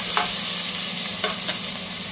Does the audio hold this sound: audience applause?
no